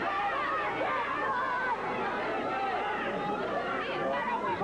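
An arena crowd at a 1982 Stampede Wrestling match jeering Nick Bockwinkel, a dense, sustained hubbub of overlapping shouts and chatter at an even loudness throughout.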